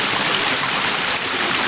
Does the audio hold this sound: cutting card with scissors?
no